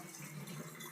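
Water from a kitchen tap runs steadily over a cast iron pan as it is rinsed, a close, continuous splashing with no break.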